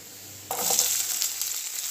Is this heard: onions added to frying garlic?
yes